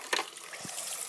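A brief splash and trickle of water in a flooding Lego scene, close and short, with one light plop and no voices.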